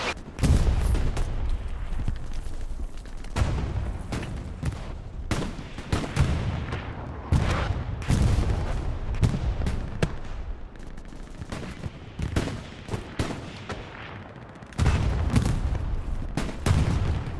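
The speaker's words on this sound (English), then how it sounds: "Another long-range rocket." Heavy battlefield fire from the Hell Let Loose game, with repeated booming blasts and rolling gunfire bursting in loud, dense waves, where long-range rocket artillery strikes mix with rapid shots and no talk.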